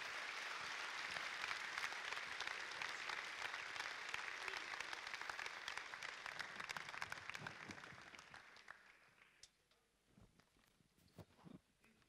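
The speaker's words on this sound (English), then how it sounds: "Round of applause." An audience gives a loud, sustained round of applause at a church gathering, dense clapping that holds steady for several seconds and then thins out to scattered claps.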